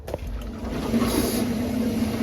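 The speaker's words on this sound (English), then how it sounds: "a little bit of spurge from the auto air vent, just a little bit of air out" Air hisses briefly from a boiler's automatic air vent after the system is brought back up to pressure. A thin, steady hiss and a faint tone sound close by after a small knock at the start.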